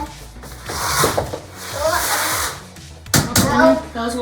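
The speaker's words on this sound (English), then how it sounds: "Watch out so I can close the door." A hallway door in a home swings shut with a firm knock near the end, after scattered rustling and handling noises, with faint voices in the background.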